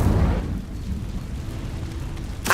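A fiery spell cast in Hogwarts Legacy erupts as a short, dense, rumbling whoosh that fades, then a sharp crackling burst near the end. The whole effect is brief and close.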